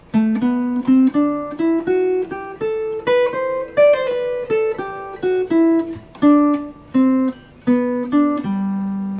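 A jazz guitar plays a single-note improvised line over a ii–V–I progression, clean plucked notes in a steady, articulated rhythm with phrases separated by short gaps, heard alone and up close.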